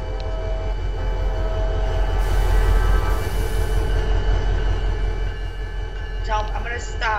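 A Brightline Express train in the video game Terminal Railways rumbles past the platform with a continuous low roar and rattling wheels, louder in the middle, with a voice speaking over it toward the end.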